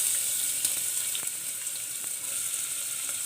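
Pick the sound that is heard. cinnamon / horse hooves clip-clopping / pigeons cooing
cinnamon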